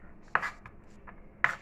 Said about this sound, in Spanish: Entonces seguimos picando.